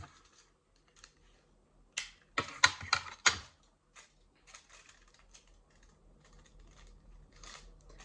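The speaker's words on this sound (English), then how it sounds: "Anybody else hate the way it sounds when you cut foil?" Scissors snipping aluminum foil while making a solar eclipse viewer: a cluster of sharp crinkly cuts in the middle, loud and close, with quieter rustling and small scraps of handling before and after.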